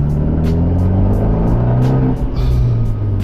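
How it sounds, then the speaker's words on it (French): An Abarth 124 Spider with a Monza exhaust revs loudly and close by, a deep, throaty engine drone that holds steady with slight rises and dips in pitch throughout. "ça fait du bruit vu l'histoire d'Abarth et les échappements"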